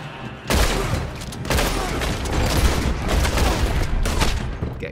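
Gunfire crackles through a team gunfight in Red Dead Online, with dense overlapping shots and booming reports in loud surges. Near and distant fire rises and falls continuously.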